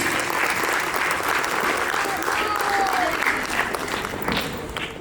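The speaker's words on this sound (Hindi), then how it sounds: "Please welcome her with a round of applause." An audience at a Diabetes Celebrations 2025 evening gives a young girl a welcoming round of applause. The clapping is steady and full throughout, with voices faintly underneath.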